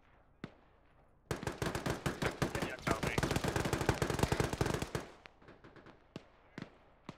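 Gunfire in a military shooter video game: a couple of single cracks, then a sustained rapid automatic burst lasting about four seconds, followed by scattered isolated shots.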